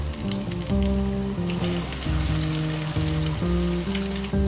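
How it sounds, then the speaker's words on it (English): Lentil fritter batter crackles and sizzles steadily in deep-frying oil at close range, with a low musical tone shifting underneath; no one speaks. "So this will be frying for about 3-4 minutes in deep fry."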